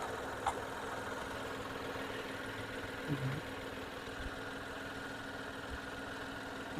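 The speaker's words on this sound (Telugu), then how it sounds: "ఇంజన్ బీటింగ్ కూడా చూసుకోండి," A Datsun Redigo car idles with a quiet, steady, low engine hum and a faint regular beat underneath. No one speaks.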